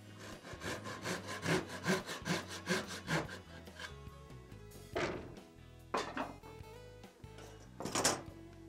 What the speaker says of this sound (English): we're going to finish our cuts again with the handsaw